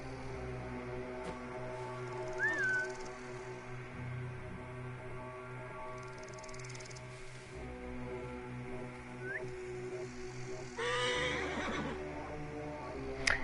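A horse whinnies several times in Assassin's Creed Origins, rising neighs spaced across a steady game ambience with a low hum, including a louder burst near the end.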